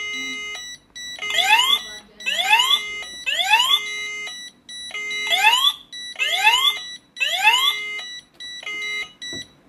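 Repeated electronic fire alarm sounders on an INIM addressable fire suppression panel ring in short, evenly spaced bursts of sweeping high-pitched tones, loud and insistent, with a steady background tone between bursts.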